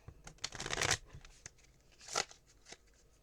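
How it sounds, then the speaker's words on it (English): A deck of Magic: The Gathering cards is riffled and jumbled up close, with a long rapid flurry of card flicks followed by a second shorter burst and a few scattered taps, no voices. "I'm going to give it one more good shuffle"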